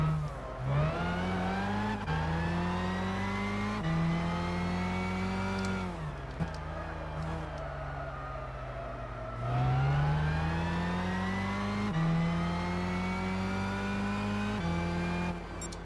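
Race car engine in Gran Turismo 6, a Super GT500 car lapping the Nürburgring, loud and continuous, with repeated rising revs through gear changes and brief drops as it brakes for corners, heard alone without talk.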